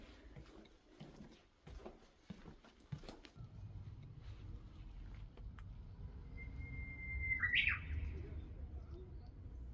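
A single bird sings once inside an abandoned kindergarten, a clear, bright call rising out of a quiet, hushed room after some footsteps and handling noise.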